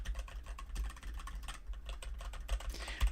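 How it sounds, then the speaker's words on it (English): Quiet, rapid keystrokes on a computer keyboard with linear switches patter along in an irregular stream, close and soft, with no voices over them. "I just hear the keyboard itself."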